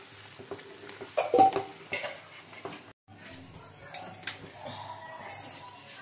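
Spoon stirring and scraping chicken darbari in a cooking pot after milk is added, giving a few soft clinks and rustles at close range that pause briefly midway.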